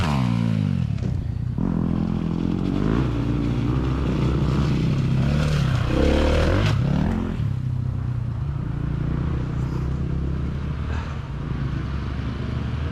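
Trail motorbikes ride a muddy green lane through a deep winter puddle, engines droning and revving up and down close by with clattering and splashing, loud and steady throughout.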